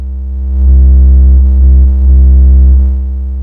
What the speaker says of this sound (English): it drives it with this great analog distortion.